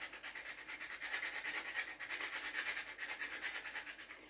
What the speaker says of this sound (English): so I'll just go ahead and grate some nutmeg.